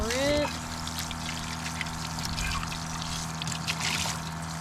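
Water pours from a camping water jug to rinse dishes at a tent campsite: a short, strong splash at first, then a thin steady trickle with faint voices nearby.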